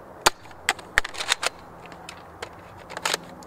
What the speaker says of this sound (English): Shoot this one first.